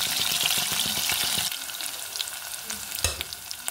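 Onion and curry leaves sizzling in hot oil for methi carrot dal, a loud crackling fry that drops to a softer steady sizzle with occasional pops and stirring clinks.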